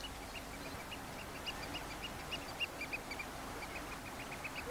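Waterbirds call on an East Anglian estuary coast with saltings, a scatter of faint quacking and honking calls over a steady wash of open outdoor noise, distant and continuous.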